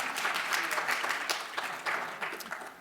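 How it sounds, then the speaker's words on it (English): An audience at a New Orleans music event applauds in a steady wash of clapping from many hands, fairly close and sustained for a few seconds without speech. "I heard some applause for Xavier."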